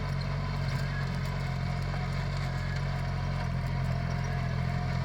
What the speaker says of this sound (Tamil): மினி டிராக்டர் மூலமாக உழவு ஓட்டி விட்டுக்கிறோம்